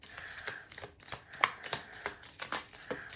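Tarot cards being shuffled in a series of quick riffling bursts, close up and fairly quiet, repeating at an uneven rhythm with no talking.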